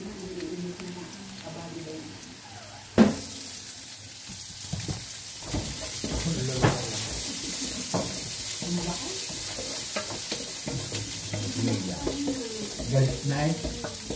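Garlic and onion sautéing for canton guisado, a steady sizzle with frequent spatula scrapes and stirring knocks in the pan, one sharp clatter near the start, and soft talk in the background.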